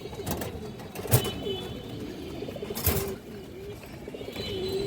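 A male pigeon coos in low, repeated throaty phrases, close by, with brief sharper bursts and a soft background hiss.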